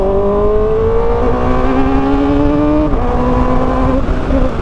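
A Kawasaki ZX4RR motorcycle, a street-legal track bike build, runs its engine in a loud, close, steady high-pitched drone whose tone climbs slightly as the revs hold and shift.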